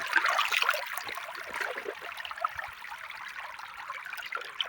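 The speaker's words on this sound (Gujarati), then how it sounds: "તો ગાઈઝ, તમે જોઈ શકો છો અહીંયા પાણી ચાલુ છે" Irrigation water flowing through a field channel in a Mahisagar village, a faint, steady trickling and gurgling heard alone and from close by.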